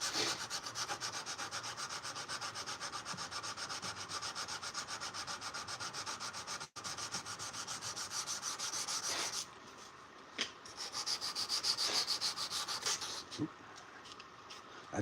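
A knife blade being hand sanded with sandpaper, rapid rhythmic rubbing strokes running steadily, with a brief pause and a lighter, gentler sanding stretch toward the end.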